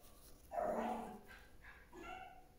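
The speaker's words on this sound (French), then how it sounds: "c'est normal qu'il aboie un petit peu" Dogs at home give one loud, close bark followed by softer yips and whimpers.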